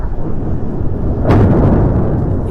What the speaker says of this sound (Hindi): कितना बड़ा धमाका इजराइल की तरफ से किया गया